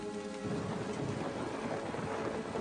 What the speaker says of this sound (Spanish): se vio atrapado en una espectacular tormenta eléctrica